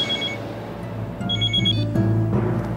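An indoor telephone rings late at night, with repeated bright electronic tones over a low steady hum and no one speaking.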